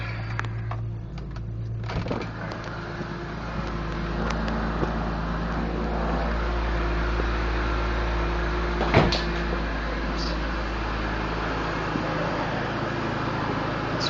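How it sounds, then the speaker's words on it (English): A 2001 BMW M3 with over 200k km idles cold with the hood open, a quiet, steady low hum heard close to the engine bay, with a single sharp click partway through. "So this is underneath the hood, the car is on. It's very quiet. It just purrs."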